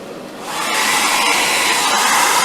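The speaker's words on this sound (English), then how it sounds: "We can help that happen with our hair dryer." A hair dryer blows to speed drying of paint on an AMT Star Trek Klingon D7 model kit, a steady, loud, close whooshing roar that swells up in the first half-second and then holds even throughout.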